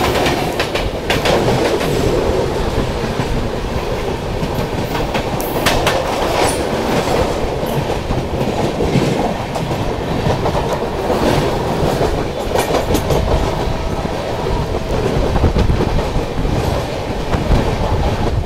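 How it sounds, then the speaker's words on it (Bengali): A passenger mail train running on rails, with a loud, continuous rumble and rhythmic clickety-clack of wheels over rail joints heard from inside the carriage, with occasional faint squeals and no voices. "ট্রেন এখানে একটা বিরাট কার্ভ নেবে।"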